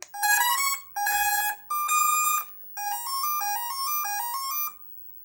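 An RC jet's electronic speed controller sounds its calibration signal, a loud series of clean electronic tone bursts in short melodic groups, ending in a rising run of stepped beeps, with no talking.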